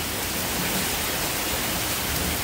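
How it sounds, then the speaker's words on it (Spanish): Heavy storm rain pours down in a dense, constant roaring hiss, loud and close, with no voices over it. "Está fuerte el agua, ¿vieran?"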